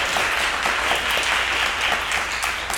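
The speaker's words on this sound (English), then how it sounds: "So y'all clap it up for Roxy." A crowd applauds Roxy at a community event on mental health in the Latinx community, a steady, close burst of many hands clapping that fills the moment alone.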